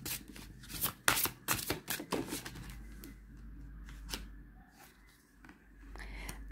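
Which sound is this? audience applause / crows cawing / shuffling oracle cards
shuffling oracle cards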